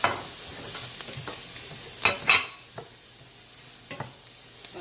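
Broccoli and peppers stir-fry in a pan for a chicken stir fry, a soft steady sizzle broken by a few scraping stirs and one louder clatter midway, close and with no talk.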